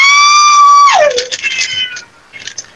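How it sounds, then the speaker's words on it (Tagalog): Hungry cats meow loudly close by, one long high wail bending downward and then a few shorter overlapping cries fading out. "Yung mga pusa namin gutom na!"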